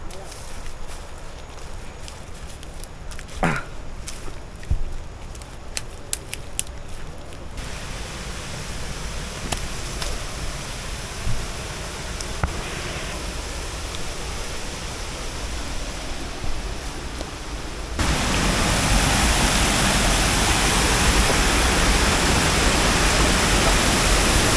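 Mayang Falls in Trece Martires, Cavite, pours as a steady, close broadband roar of falling water. It runs unbroken and swells noticeably louder in the final stretch, with a few faint incidental knocks early on.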